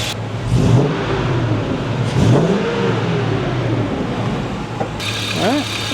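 LS-swapped car engine idling and revving close by, a loud steady mechanical roar with two throttle blips early on, then a change in tone near the end, with some voices mixed in.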